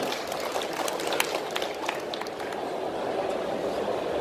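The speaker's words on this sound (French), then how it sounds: "Et on applaudit, s'il vous plaît." Audience applause at a Japan Tours Festival Japanese-language class, a steady dense clapping from a crowd filling the whole moment without letup.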